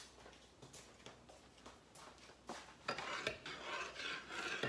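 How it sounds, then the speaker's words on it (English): A spoon scraping and stirring a quarter cup of grits in a cup of water, giving soft repeated rasping strokes that grow louder and denser toward the end, close by with no talking. "I am going to get a spoon and stir it up"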